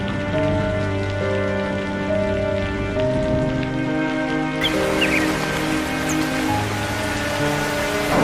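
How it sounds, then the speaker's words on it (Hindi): Cartoon rain beginning to fall, a continuous patter of drops over a sustained musical background, with a few brief squeaky effects partway through. "ये लो, बारिश शुरू हो गई है।"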